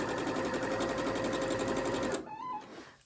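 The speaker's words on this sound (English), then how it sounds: "you can just watch me sew some blocks together" A sewing machine stitches quilt blocks together in a rapid, steady mechanical whir close up, running continuously for about two seconds before stopping and leaving a faint quiet tail.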